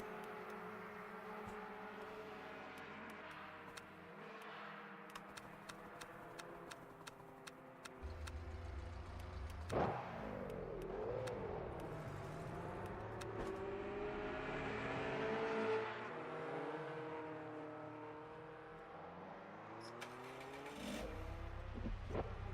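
Racing car engine in a racing video game, revving and droning steadily with shifting pitch, gear changes and a sharp surge midway, plus a scattering of faint ticking clicks throughout.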